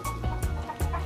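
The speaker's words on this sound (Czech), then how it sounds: "ty slepice taky potřebují trochu prostoru" Hens on a small farm cluck in short, close bursts, three quick squawky calls over about a second with steady low barnyard hum between them.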